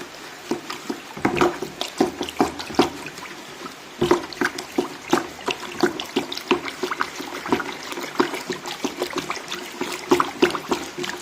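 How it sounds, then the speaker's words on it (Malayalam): Homemade dishwashing liquid being stirred with a stick, producing a run of close, wet sloshing and swishing strokes in an irregular rhythm, with a short pause at about four seconds before the stirring resumes. "ഈ കമ്പ് കൊണ്ട് നന്നായി ഒന്ന് ഇളക്കി കൊടുക്കാം ഇത് അലിയത്തക്ക രീതിയിൽ ഇളക്കാം"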